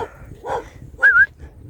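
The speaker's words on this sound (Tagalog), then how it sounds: "May aso pa rin dun." A dog gives a couple of short sounds, a soft bark then a higher yelping whine, close by in a quiet setting.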